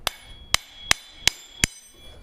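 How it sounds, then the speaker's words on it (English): Hammer striking a rear axle through a 17 mm deep socket during an extended axle install on a Yamaha Banshee ATV, five sharp metallic blows evenly spaced about a third of a second apart, close and alone. "you're going to use your 17 deep socket, slip it over here, and then hit the axle with a hammer"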